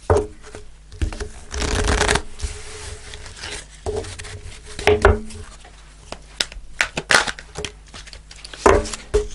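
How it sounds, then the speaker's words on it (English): Fairy oracle cards are shuffled and pulled in a run of close, papery riffles and flicks, with bursts of shuffling separated by short pauses and light handling noises throughout. "I'm just going to pull a fairy card."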